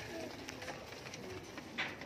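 Soft cooing of border-breed pigeon chicks in the background with low murmuring and ambient noise, a brief brighter call near the end.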